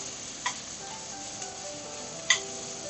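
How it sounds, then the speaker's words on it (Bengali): Chicken seasoned only with lime juice fries in a pan, giving a soft, steady sizzle with a few sharp ticks and pops. "ফ্রাই করে নিই।"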